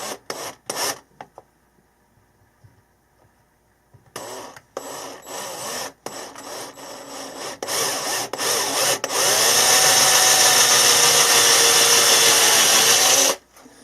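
Scraping and grinding of a hand-held drill working into wood, starting and stopping in short bursts, then a long steady, loud drilling whine.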